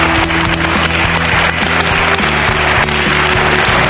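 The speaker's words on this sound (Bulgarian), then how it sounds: "Моля аплодисменти за художника Ивайло Маринов." Studio audience applauding an artist on a Bulgarian talk show, continuous clapping over loud, steady music with a repeating low pulse, no talk.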